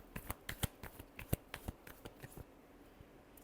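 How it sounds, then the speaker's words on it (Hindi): Tarot cards being shuffled produce a quick run of crisp riffling snaps and flicks, close and fairly quiet, that thin out toward the end with no voice over them. "last shuffle"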